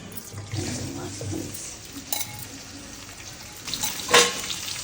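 Fish and onion fry in hot oil for a fish bharta, giving a continuous close-up sizzle with a few louder bursts of spitting and stirring, with no one talking.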